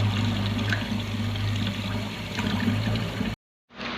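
Tap water runs steadily into a kitchen sink while drinking glasses are washed by hand, a continuous close hiss and splash that stops abruptly just before the end.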